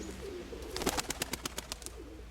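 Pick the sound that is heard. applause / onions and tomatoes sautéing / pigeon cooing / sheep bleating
pigeon cooing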